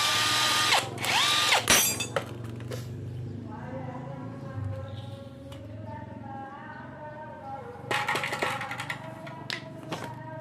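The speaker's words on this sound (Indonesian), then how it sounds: "baut shocknya yang di bawah kita buka dulu" A tool works loose the lower bolt on a motorcycle front shock absorber, making ratcheting clicks and short whirring bursts near the start and again toward the end, with someone speaking over it.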